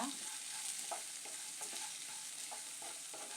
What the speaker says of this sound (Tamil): எல்லாத்தையும் சேர்த்து நல்லா வதக்கிக்குங்க.